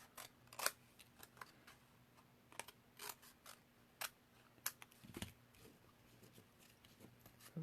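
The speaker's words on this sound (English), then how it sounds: "Just going to cut these extra little corners off because I don't need those." Scissors snip the corners off paper card for a handmade Christmas card, a series of faint, sharp, irregular clicks and cuts up close in a quiet room.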